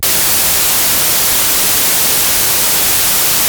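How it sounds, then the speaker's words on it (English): Loud, steady white noise hisses without a break for several seconds after passing through a Signal Art reamp box, a box with a notably hot output. "I was sending white noise here through all those different boxes, and I want to start with the signal art box"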